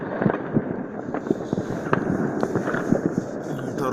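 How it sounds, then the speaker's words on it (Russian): New Year fireworks going off in the distance over Odessa, a steady scatter of muffled pops and booms at irregular intervals, some louder cracks standing out, under a faint background murmur. "Жжет и жжет. Пиротехника-то. Далеко просто не видно. Но звуки оттуда слышны."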